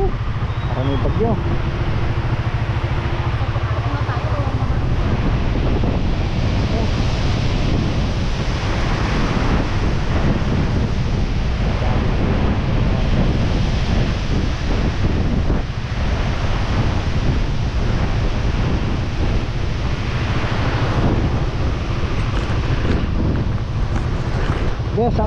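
Strong, gusty wind buffets the microphone on a beach while ocean surf roars without a break. The rumble stays loud and dense, and voices talk faintly under it.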